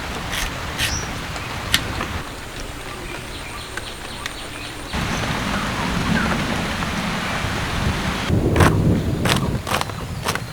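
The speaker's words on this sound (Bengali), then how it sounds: "শুধু বৃষ্টি নয়, মাঝে মাঝে ঝড়ও হচ্ছে।" Steady rain hisses throughout, with low rumbling swells that suggest distant thunder, growing heavier and louder toward the end.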